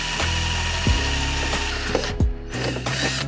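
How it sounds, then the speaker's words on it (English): Power drill boring into a jet ski hull during a GPS sounder install, a close, steady whirring grind with brief pitch drops as the bit bites and slows, running continuously with no talk. "Drilling with on the ski, make sure you don't press too hard and go into your ski."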